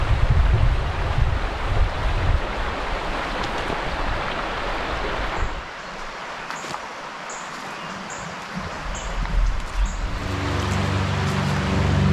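A river flows beside a trail at Apple River Canyon State Park, a broad, steady rushing roar overlaid with gusty wind buffeting the microphone, easing briefly midway before swelling again.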